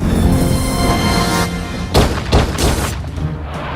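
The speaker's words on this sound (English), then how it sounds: "Gunshots ring out and Smith's car is drifted into a nearby house" Loud booming gunshots burst through a dense, dramatic soundtrack, a few heavy blasts in quick succession over rumbling background noise.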